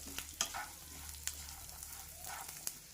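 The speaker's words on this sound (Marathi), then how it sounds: "शेंगदाणे आणि लसूण थोडा आधी भाजून घ्यायचा" Peanuts and garlic dry roasting in a pan for a traditional Maharashtrian chutney, a soft steady crackle broken by a few sharp stirring scrapes, close and quiet with no talk.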